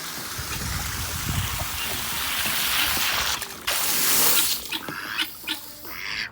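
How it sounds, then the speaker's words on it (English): A hose trickling and splashing into a duck's outdoor pool, a steady close watery rush that breaks into uneven splashes and drips toward the end, with faint voice in the background. "Probably gonna shut that water off."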